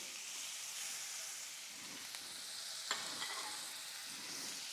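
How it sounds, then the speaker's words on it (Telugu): Vegetables sauté in a pan on the stove while a cheese sauce for pasta cooks. A soft, continuous sizzle hisses along quietly, with a few faint clicks from stirring. "పక్కన మన వెజిటబుల్స్ అన్నీ ఒకసారి సాటే చేసుకుంటున్నానండి"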